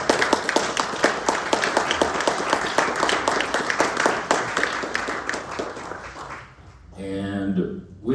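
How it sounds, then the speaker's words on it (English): A live audience at a North Miami mayoral candidate forum applauds four candidates with dense, sustained clapping that fills about seven seconds, then fades out as a voice starts talking. "a big round of applause for these 4 individuals"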